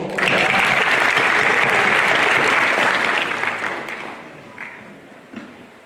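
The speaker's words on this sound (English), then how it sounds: "How about a round of applause?" Audience applause after a speech at a content creation event, a dense burst of clapping that holds for about three seconds before thinning out to a few scattered claps.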